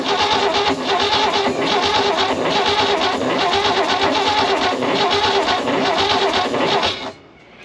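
An abandoned Holden ute's engine cranks steadily with the throttle held wide open, a loud, continuous rhythmic churn lasting about seven seconds before stopping abruptly, with no talking.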